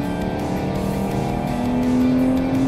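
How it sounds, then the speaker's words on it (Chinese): A Ferrari Purosangue's 6.5-litre naturally aspirated V12 revving, a loud, steady mechanical drone with engine tones that climb slightly in pitch near the end, heard close with no talk. "好，我们来听一下它声浪。"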